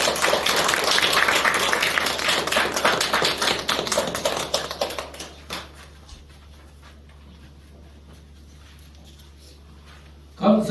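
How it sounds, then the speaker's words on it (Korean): Church congregation at a Sunday worship service applauding, a dense burst of clapping lasting about five seconds, then fading into quiet room tone before a sudden loud sound at the end. "우리 박수를 한번 모셔볼까요?"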